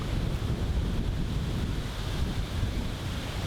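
Wind gusts across an outdoor disc golf course at a pro tour event, a steady broadband rush buffeting the microphone throughout, with no voices.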